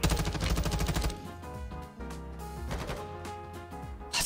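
Video-game gunfire on Ashika Island, a dense burst of rapid automatic shots at the start, then looser scattered shots and rumbling booms that are moderately loud with no talking.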